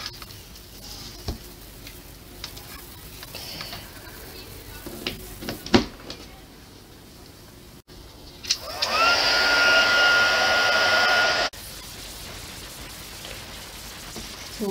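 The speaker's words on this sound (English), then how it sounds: "Now I'm going to see if I can heat set this part." A handheld heat tool blows steadily for a few seconds while heat setting acrylic paint, a loud close airy whoosh that starts abruptly after some quiet handling noises and then cuts off.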